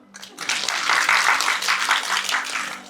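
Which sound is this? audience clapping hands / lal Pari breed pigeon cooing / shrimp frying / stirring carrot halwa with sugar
audience clapping hands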